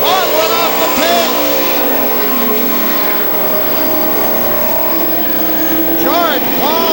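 Pro stock race cars on a speedway at a night race, engines roaring loudly and steadily with passing whines rising and falling, a race announcer talking over the noise throughout.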